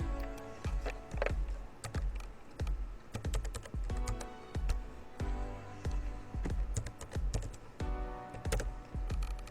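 HTML code is typed on a computer keyboard, with close, crisp key clicks coming in quick irregular bursts and brief pauses between them, and no talking.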